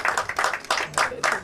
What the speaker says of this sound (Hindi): और आप सब लोगों की तालियां होती रहनी चाहिए.